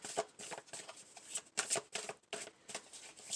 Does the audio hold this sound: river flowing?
no